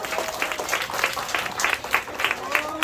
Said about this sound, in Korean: 박수 많이 해주시고